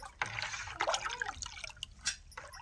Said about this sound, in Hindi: और अब हरी धनिया को हम चलाएंगे।